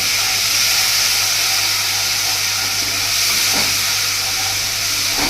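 Soy sauce poured over garlic frying in a pan sets off a loud, dense, continuous hiss that stays steady for a few seconds, close and with no voices.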